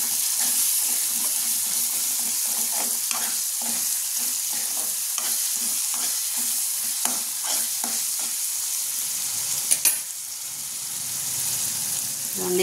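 Onion and tomato fry in a pan for prawn curry with a steady hiss of sizzling up close. A spoon stirs them in repeated scraping strokes, and a faint voice can be heard in the background.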